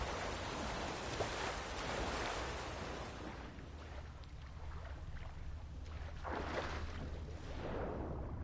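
Steady rain hisses across an outdoor scene in The Witcher 3, a dense continuous wash of droplets with swelling gusts of wind, loud and close throughout with no talk.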